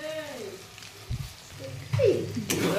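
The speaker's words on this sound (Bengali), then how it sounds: "নাড়াচাড়া করে নিচ্ছি" Chilli chicken with salt, turmeric and Kashmiri chilli powder being stirred in a pan, with short scrapes and clinks over a light sizzle, close by, mixed with a talking voice.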